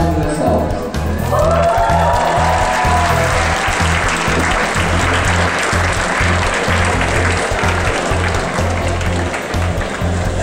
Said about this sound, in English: Let's have a round of applause for our 3x3 Rubik's Cube champion.